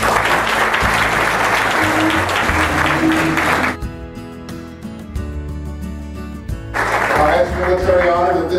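Audience applause at a Nashville gala, loud sustained clapping that drops away mid-clip beneath music, then swells again toward the end.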